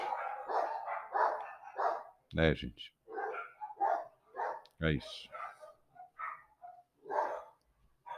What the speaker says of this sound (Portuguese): os cachorrinhos